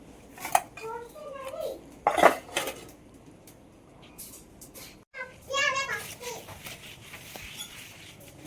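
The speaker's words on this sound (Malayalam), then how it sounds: "കഴുകാൻ കുറച്ച് പാത്രങ്ങളൊക്കെ ഉണ്ടായിരുന്നു. അതൊക്കെ കഴുകി വെച്ചിട്ട്" Dishes being washed in a small home kitchen: pots and steel utensils clink and clatter in scattered bursts, close by, with a voice and a voice talking around them.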